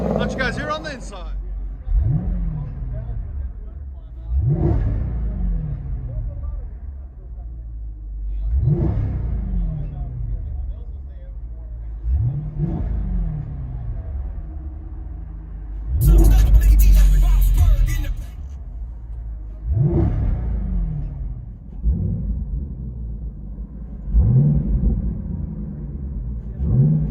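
Jeep Grand Cherokee SRT with a 6.4L HEMI V8 and aftermarket exhaust, heard from inside the cabin as a series of about seven deep, evenly spaced revs that rise and fall, with voices talking over them.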